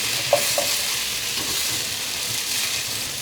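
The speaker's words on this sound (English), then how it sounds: "we're gonna saute the pork until it is brown" Pork browning in a pan for cheesy caldereta gives a steady broadband sizzle, with a couple of sharp clinks near the start from a spoon scraping and stirring, all close up with no talking.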